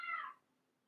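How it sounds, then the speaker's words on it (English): A cat in heat gives a single short, fairly close meow that fades quickly into near silence. "sorry about the cats. One of them are in heat."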